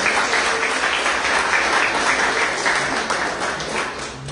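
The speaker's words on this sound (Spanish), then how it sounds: "Déselo al Señor ese aplauso, por favor." Sustained applause from a large church congregation, dense and steady throughout, with no voices rising above it.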